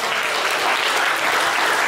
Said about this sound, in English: Everybody, give them a nice round of applause.